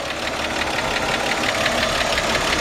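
A 1953 Chevrolet 210 sedan's six-volt-era engine idling steadily up close, a continuous, even mechanical churn with a faint rhythmic tick and no voices.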